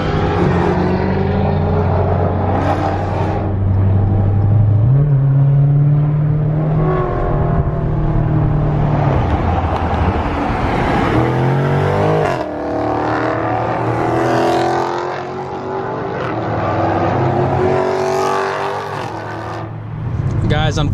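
Engines of a group of three Dodge Challenger cars cruising on the road toward a freeway, a loud, steady rumble with revving swells and passing rises, continuous and close throughout.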